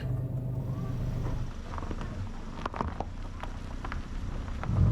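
A car climbs a rough road toward a mountaintop near Chiang Mai, its low engine drone and road rumble steady and close, with scattered knocks and rattles from the uneven surface.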